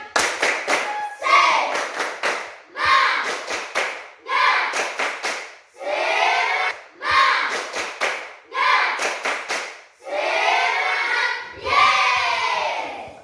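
A classroom group performs a rhythmic 'tepuk semangat' cheer, bursts of patterned clapping in repeated short phrases separated by brief pauses, with chanted voices mixed into the claps, loud and close.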